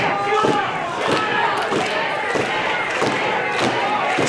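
A wrestling crowd roars and cheers for the tag team Primal Fear during a Ryse tag team title match, a steady arena din punctuated by recurring thuds and slams from the ring.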